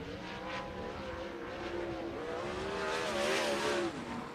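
Sprint cars lapping at Fremont Speedway, a steady loud engine roar with shifting harmonic whine that swells and fades as the cars run the oval, continuous throughout.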